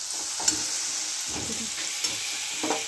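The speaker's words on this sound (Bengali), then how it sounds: "এবার আমি এটাকে ভালো করে কষবো।" Spiced vegetable and mung dal masala being stirred and fried in oil in a pan, a steady close sizzle broken by a few scraping stirs, with no talk.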